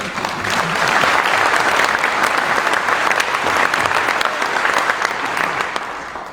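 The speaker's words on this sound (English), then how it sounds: "So I want you to give yourselves a round of applause." A crowd claps steadily for several seconds at a community meeting about a wildfire, dense and sustained applause filling the room before it begins to taper off.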